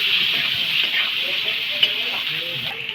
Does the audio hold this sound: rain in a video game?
no